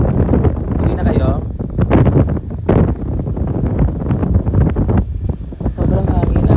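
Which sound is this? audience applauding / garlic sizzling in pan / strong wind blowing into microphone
strong wind blowing into microphone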